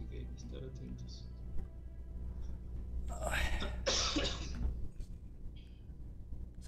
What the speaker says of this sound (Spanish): Fue tos.